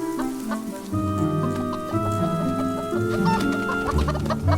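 Chickens cluck steadily and close by, a busy overlapping chorus of clucks and squawks from several birds, with no talking.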